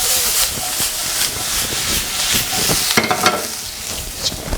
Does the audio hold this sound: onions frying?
yes